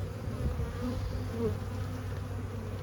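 Honey bees buzz steadily at an open hive of a healthy colony, a close, continuous drone with a low hum and slight swells, no voices.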